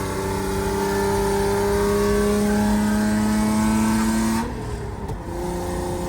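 A Lexus IS300 engine, swapped to a manual gearbox, revs and holds a high, steady drone in second gear, loud and close, then drops off sharply near the end.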